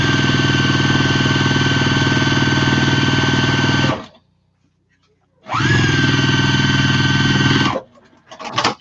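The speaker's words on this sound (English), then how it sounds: "we need to sew this piece to here now. So we'll sew this to this." Sewing machine stitching fabric pieces for a drawstring bag, a loud, steady motor whir running in two long continuous bursts separated by a brief quiet pause, close up.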